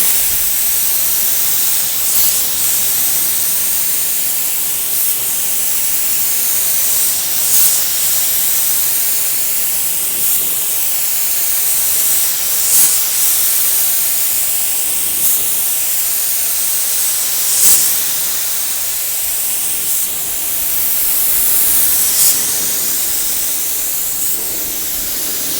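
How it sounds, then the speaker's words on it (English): A continuous, steady hiss of a spray gun spraying lacquer finish, loud and close, with slight rhythmic swells as the gun passes back and forth. "So let's just go ahead and spray some on here."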